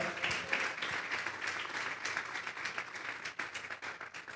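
Church congregation clapping together as an offering of applause during a service, a dense steady wash of many hands at moderate distance with no voices over it.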